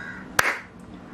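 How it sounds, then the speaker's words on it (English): One crisp hand clap, near and sharp, triggers an Arduino sound-sensor clap switch, then dies away into near silence apart from a faint tick afterward. "once I give the clap, light is turning off"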